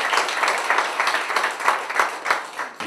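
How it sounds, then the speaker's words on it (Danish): Audience applause fills a church, steady clapping from many hands throughout, dense and continuous at moderate loudness with no voices over it. "I skal lige klappe lidt mere"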